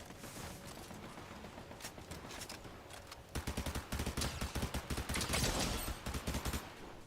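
Rapid bursts of video game gunfire, volleys of sharp cracks that start sparse and turn into dense, loud automatic strings in the second half, with a mechanical clatter between shots.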